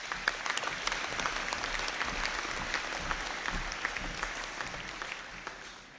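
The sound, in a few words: audience applause at graduation conferring ceremony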